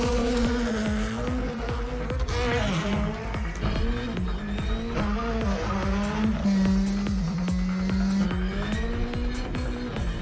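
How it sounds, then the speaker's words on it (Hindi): A car engine whines and revs continuously in a racing video game, pitch rising and falling through gear shifts, loud and steady throughout with no talking. "बिल्कुल ऐसे लग रहा है जैसे कि वीडियो गेम में कोई गाड़ी चला रहा है।"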